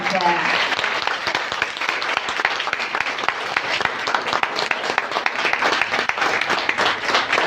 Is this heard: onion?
no